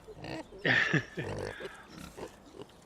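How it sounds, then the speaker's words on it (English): Pig grunts and oinks sound inside a pig shed in Farming Simulator 2017, a few short, close, moderately loud snorts in quick succession with brief gaps between them. "even though there's no pigs in here, there's pig noises."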